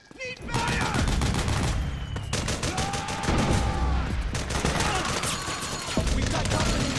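Sustained suppressing gunfire in the war game Metal Gear Solid 4: dense, continuous automatic bursts from several weapons, loud and close, rattling on for seconds with shouting voices mixed in.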